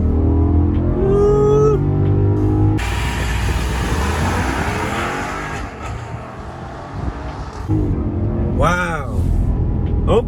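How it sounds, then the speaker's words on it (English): A 2022 Grand Wagoneer with its 6.4 Hemi V8 launches hard in sport mode, a loud surging engine roar that climbs through the gears and then eases. Excited exclamations come before and after the run. "Full launch in 3, 2, 1."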